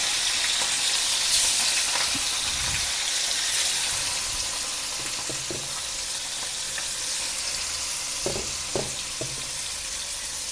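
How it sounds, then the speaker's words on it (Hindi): Pieces of rohu fish frying in a pan of hot oil, a continuous bright crackling sizzle with a few soft clinks and bumps scattered through, heard close and steady with no talking. "हमने जितनी मछली डाली सारे के सारे तेल में डूब चुके हैं।"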